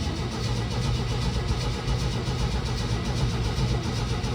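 The engine of a 1970 GMC 1 ton truck cranks steadily with a dense, even churning drone, close and fairly loud, without firing into a run, and no voices are heard.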